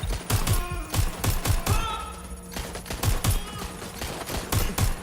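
Rapid bursts of automatic gunfire crackle in a shooter video game, loud, close and repeated in quick volleys with short gaps between them.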